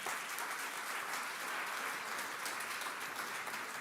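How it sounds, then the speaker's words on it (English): Steady applause from an audience at a startup pitch event, honouring a government minister, a dense even clapping that fills the whole stretch with no voices over it. "So a round of applause for the minister, right?"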